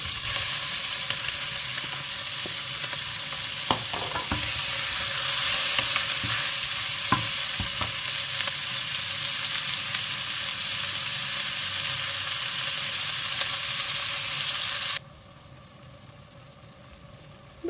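Vegetables and beef stir-fried in a pan for dana sote, a steady loud sizzle running continuously with occasional clinks of a utensil, dropping away abruptly near the end.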